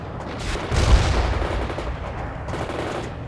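Soviet units in World in Conflict open fire in a sustained burst of machine-gun chatter with a heavier boom near the start, then keep up steady rattling shots as the volley continues.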